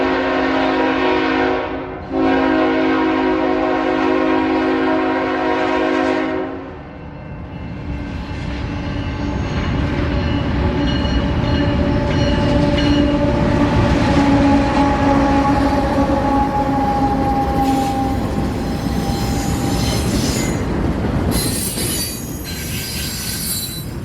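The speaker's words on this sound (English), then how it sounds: "The train would turn out to be 283, out of Charlotte, North Carolina, bound from Memphis, Tennessee to the BNSF" CSX freight train 283 led by BNSF locomotives rolls past on the Chattanooga Subdivision. A loud horn sounds first, then a long rumbling stretch of wagons with wheel squeal and clatter that stays close and steady throughout.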